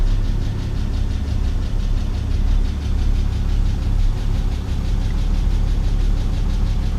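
A 1962 Plymouth Valiant, abandoned for over twenty years and carrying an exhaust leak, idles steadily and loudly with a rough, even rumble throughout, no voices over it.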